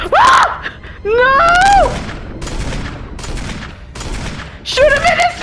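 Gunfire in the survival horror game Resident Evil 1, a few broadband shot bursts at mid-loudness mixed with loud overlapping voiced screams and yells.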